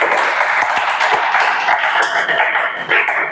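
A class of students claps together in a dense, sustained burst of applause, loud and close, filling the room for several seconds.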